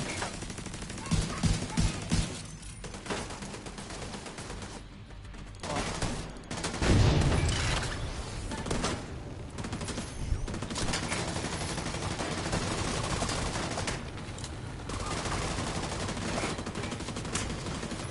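Automated turret deployed in The Division 2 fires sustained bursts of gunfire through a dense, continuous firefight, with a heavier impact near the middle and a voice speaking briefly.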